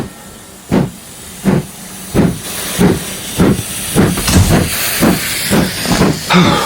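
Rhythmic chuffing bursts of steam from a steam locomotive, about a dozen loud hissing puffs at a steady pace that gradually quickens, heard up close as a radio drama sound effect.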